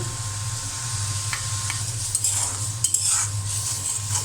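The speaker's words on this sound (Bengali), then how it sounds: "মশলাটা ভালো করে কষিয়ে নিয়ে আমি আলু দিয়ে দেব" Turmeric, coriander powder, cumin paste, chili powder and salt sauté in oil in a pan for a potato and egg curry, making a continuous close sizzle with occasional light metal stirring clinks and no voices.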